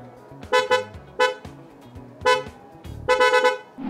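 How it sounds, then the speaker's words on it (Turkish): A Porsche Taycan Turbo S sounds its horn in several short honks of uneven length, loud and close with no talking. "Bir daha hadi kornayı çekelim."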